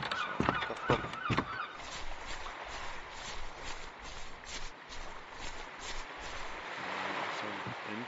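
A duck calls in the video game Ultimate Fishing Simulator on the Greenland coast: a few sharp honking quacks near the start, then a quieter rustling ambience.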